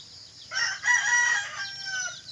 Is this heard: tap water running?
no